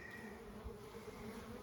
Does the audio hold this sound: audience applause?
no